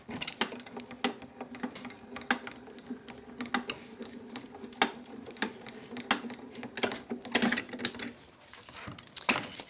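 Die-cutting machine running a die through white card, a steady mechanical whir with a persistent low hum punctuated by frequent sharp clicks and crunches, close and moderately quiet, no talking.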